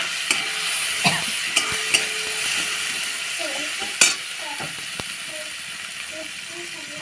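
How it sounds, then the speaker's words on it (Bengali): Spices stir-fry in a pan for homestyle pasta, a soft continuous sizzle with periodic sharp clicks and scrapes of the spoon against the metal, a voice murmuring in the background. "মশলাটা ভালো করে কষিয়ে নেবো"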